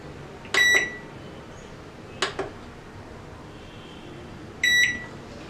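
A microwave oven being set to grill mode beeps twice in clear, loud tones, with a softer button click between them in an otherwise quiet kitchen.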